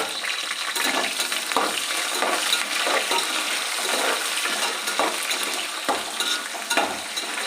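Onion and curry leaves sizzle in hot oil for egg fried rice, a loud steady crackling hiss with occasional stirring scrapes and no talking.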